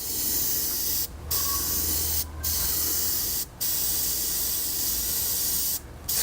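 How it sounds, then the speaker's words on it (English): An airbrush sprays green paint onto a pike fishing lure in several sustained hissing bursts separated by short pauses, close and steady, with no talking. "Spray the head a little bit,"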